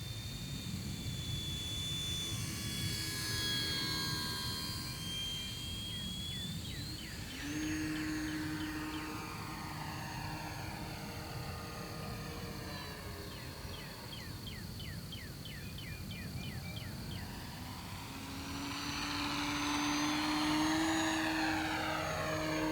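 An E-Flite Ultra Stick 1.1m electric RC airplane flies past with a whining motor and propeller, rising and falling in pitch as it passes at a distance and returns.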